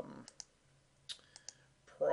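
Several sharp, quiet mouse clicks land at irregular intervals while exporting Act! contact and history data to Excel, a faint speaking voice continuing underneath them.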